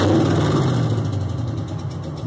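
Box Chevy truck engine idling through an open header, a steady loud low rumble that stays constant over a couple of seconds, close to the microphone with no talk.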